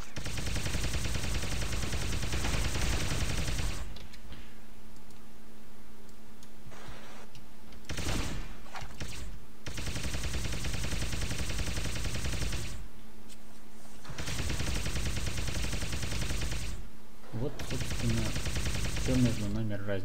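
Laser cannon fire in the PC game Zombie Shooter 2: long stretches of dense, continuous buzzing weapon blasts broken by short quieter gaps, with occasional game effects and no talk.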